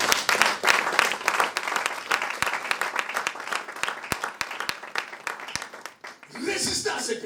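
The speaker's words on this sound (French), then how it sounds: "Est-ce qu'on peut acclamer le Seigneur?" A church congregation applauds to acclaim the Lord, a dense, sustained clapping from many hands at fairly close range, fading near the end as a voice speaks.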